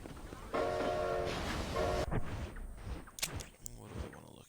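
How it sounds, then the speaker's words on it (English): A steam train pulling into a station in Red Dead Redemption, a loud rumbling arrival with metallic clatter and a brief horn-like tone, followed by quieter rolling and hissing as it settles. "Oh, the train's here. That's why I can hear noises."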